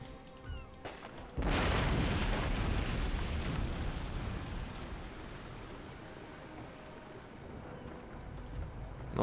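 A 74-gun warship explodes in Napoleon: Total War, a sudden loud blast followed by a long, heavy roaring rumble that slowly fades.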